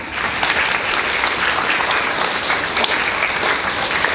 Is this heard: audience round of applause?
yes